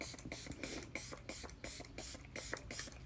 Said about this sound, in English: you shake it up, spray it, and it's really gentle